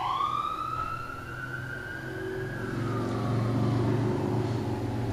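An emergency vehicle siren wails steadily outside a window, its pitch sweeping up and down over a low rumble of traffic, continuous and moderately distant.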